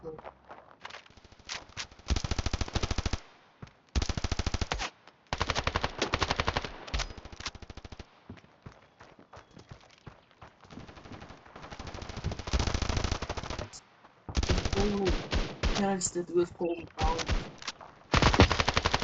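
Gunfire in the mobile shooter game Standoff 2: loud, close bursts of rapid automatic fire alternate with single shots and short quieter gaps, with footsteps and faint game sounds between volleys.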